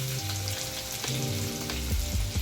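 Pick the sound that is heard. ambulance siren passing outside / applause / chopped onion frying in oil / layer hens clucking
chopped onion frying in oil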